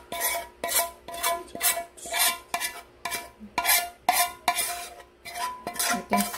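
Dried squid is mixed with sauce in a bowl: a repeated, rhythmic series of wet scraping and stirring strokes, close and distinct, about a dozen in all.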